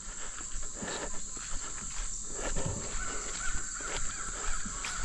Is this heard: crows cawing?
yes